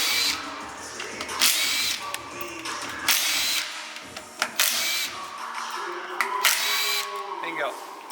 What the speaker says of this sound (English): now we're going to grab our 3/8 and get our overdrive piston out, overdrive apply piston out